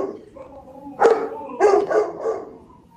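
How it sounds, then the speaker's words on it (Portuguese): A small pet dog barks indoors, a few sharp yips and barks at close range with short gaps between them, standing out over a quiet room. "meu cachorrinho está latindo"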